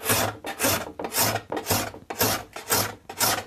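Card scraper rasping old shellac finish off a wooden antique tea cart, seven steady back-and-forth strokes in an even rhythm, close and fairly loud with no talking.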